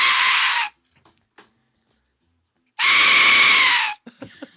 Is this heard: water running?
no